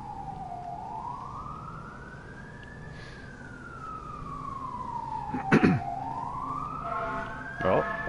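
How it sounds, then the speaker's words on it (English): A wailing fire truck siren in the video game Assassin's Creed Odyssey sweeps slowly up and down in pitch, with a couple of short horn blasts cutting in near the end. "And I hear sirens."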